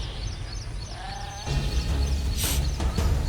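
A cartoon goat bleats in a Hindi animated village story, a short wavering bleat followed by a few more sheep-like calls over a busy, noisy background.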